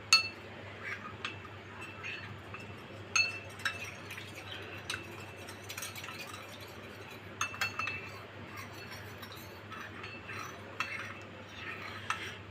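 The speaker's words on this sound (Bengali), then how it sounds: "তো দিয়ে আমি একটু পানি দিয়ে গুলাই নিব" A spoon stirs cornflour into a little water in a glass, producing quiet, repeated clinks and light scraping at close range against a faint hum.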